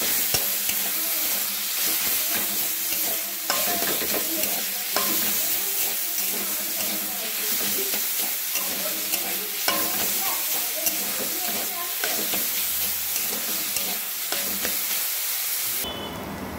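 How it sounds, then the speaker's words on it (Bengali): Salt and turmeric sizzling in hot oil, a steady frying hiss with stirring scrapes and clatter throughout, close and fairly loud, with no talking. "নুন আর হলুদ দিয়ে খুব ভালো করে একটু তেলের মধ্যে কষিয়ে নেব"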